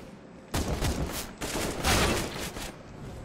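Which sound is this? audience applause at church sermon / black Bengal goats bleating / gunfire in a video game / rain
gunfire in a video game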